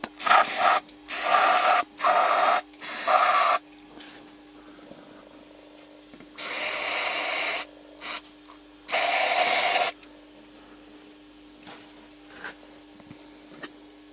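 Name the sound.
brake cleaner sprayed on engine parts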